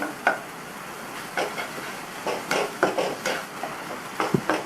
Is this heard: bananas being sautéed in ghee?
yes